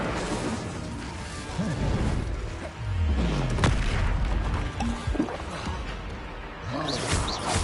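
An Incendio fire spell cast in the video game Hogwarts Legacy, a whooshing burst of flame among crashing impacts and booms, with a voice heard briefly.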